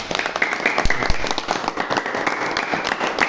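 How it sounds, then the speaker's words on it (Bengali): A group of children claps and applauds together, a loud, dense patter of hand claps that keeps going steadily from start to end with faint crowd noise underneath. "সবাই খুশি? একটা হাততালি দিয়ে হয়ে যাক"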